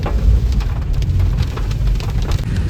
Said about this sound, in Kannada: ಅಬ್ಬಾ ಏನ್ ಮಳೆ ಬರ್ತಿದೆ ಗೊತ್ತಾ, ಸಕ್ಕತ್ತಾಗಿದೆ